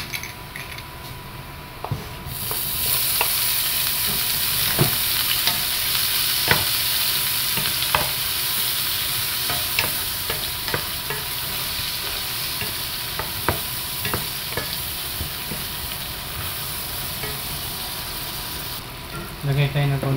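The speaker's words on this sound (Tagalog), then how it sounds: "Lagyan natin yung bawang. Lagyan natin yung kamatis." Garlic and tomatoes sauté in a pan for a vegetable stir-fry, with a loud steady sizzle that starts suddenly and runs throughout, broken by frequent clinks and scrapes of a utensil against the pan.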